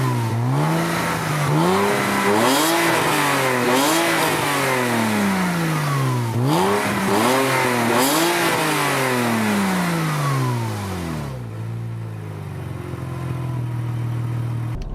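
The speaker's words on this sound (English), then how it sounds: "there is this 6-cylinder Boxster engine" A Porsche Boxster 986 six-cylinder engine turns over and runs, rising and falling through repeated revs near the listener before settling into a steady idle.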